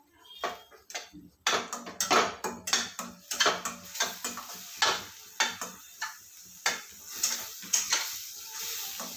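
Gram flour dough with spices being mixed in a bowl, a quick run of close clinks and scrapes of a spoon against the bowl, irregular at first and then in a fairly steady rhythm, with no talk over it.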